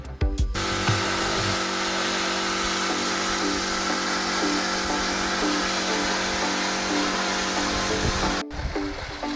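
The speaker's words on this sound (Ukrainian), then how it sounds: "Миємо насос також керкером. Збиваємо всю муть, всю зелень." Kärcher pressure washer spraying a pond pump clean of muck and algae at a sturgeon pond, a steady loud hiss with motor drone running continuously before cutting off near the end.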